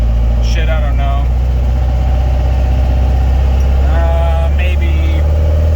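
A VW Volksrod engine fitted with Weber IDF carburetors runs steadily with a loud, constant low rumble throughout, while someone talks over it.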